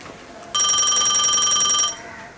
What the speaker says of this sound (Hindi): फिर काका के फोन आवा लगल।